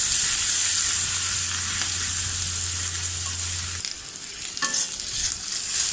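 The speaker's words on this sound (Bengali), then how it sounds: "পেঁয়াজ কুচিটা এখন ভালো করে ভেজে নেব," Chopped onion is stirred and fried in oil for a Bengali chicken curry, with a loud, continuous sizzle and scraping stir close by and a low hum fading out midway.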